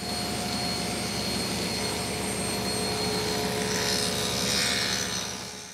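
Table saw cutting a rabbet in wood, a continuous loud whining roar of the spinning blade held steady throughout, swelling slightly near the end.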